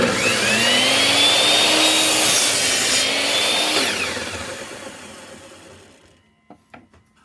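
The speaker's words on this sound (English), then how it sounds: "I'm going to cut it once and then cut it in half with my bandsaw" A power saw, apparently a bandsaw, cuts through wood for a birdhouse roof, a loud steady whine for about four seconds that winds down and fades, followed by a few faint knocks.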